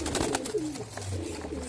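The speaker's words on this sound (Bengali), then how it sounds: "এখানে দাদার বাড়িতে খুব ভালো জাতের কবুতর রয়েছে" Madras pigeons coo softly in a loft while being fed, a low continuous rolling coo with no one talking.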